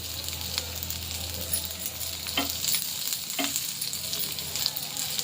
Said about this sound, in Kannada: ತುಪ್ಪ ಸೇರಿಸಿ ನಾನು ಸ್ವಲ್ಪ ಫ್ರೈ ಮಾಡ್ಕೊತಾ ಇದ್ದೀನಿ.